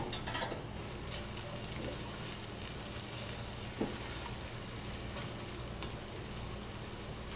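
Shallots sweat gently in olive oil in a pan for linguine with mushrooms, a steady soft sizzle running throughout with a couple of faint utensil clinks, quiet and close with no talking.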